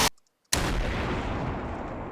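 Heavy weapon fire from Garry's Mod ACF weaponry: a loud blast, a short silence, then a second powerful boom that rolls on as a long, dense roar.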